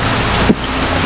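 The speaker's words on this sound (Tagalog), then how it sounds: "At aantay natin tumila ang ulan kasi tumitila pa." Rain falling outdoors, a steady, loud, hissing wash mixed with wind noise on the microphone, heard alone without voices.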